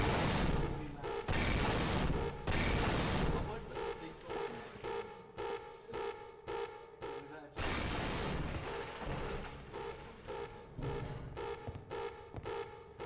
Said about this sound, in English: The game audio is really loud, there's tons of explosions and such